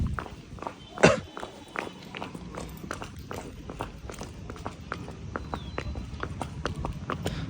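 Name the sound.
horse walking, hooves clip-clopping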